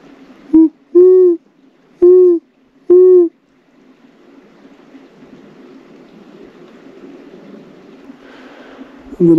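An owl gives four loud, clear hoots in a slow, even series close by, followed by quiet rustling background noise and a brief sharp sound at the very end.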